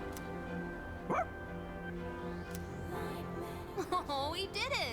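Koro-chan, the dog in the video game Persona 3 Reload, lets out a few short yips and barks, one early and a cluster near the end, over quiet game background music.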